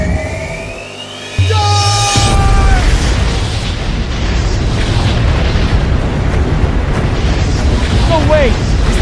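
An animated sci-fi cannon blast erupts after a rising whine, becoming a loud sustained roaring explosion that rumbles on, with a few faint voices mixed in.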